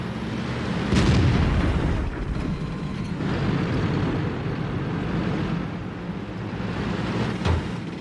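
World of Tanks gameplay with an Indien-Panzer: a heavy tank cannon blast and rumbling destruction of a building, booming impacts over a constant low engine drone, with another thud toward the end.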